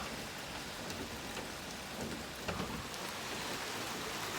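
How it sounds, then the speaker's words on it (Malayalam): Steady heavy rain pours down, a dense continuous hiss with faint drips, no voices, fairly distant and even throughout. "ഇനിയിപ്പോ ഭയങ്കര മഴയാട്ടോ"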